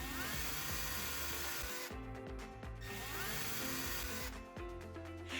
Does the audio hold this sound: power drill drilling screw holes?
yes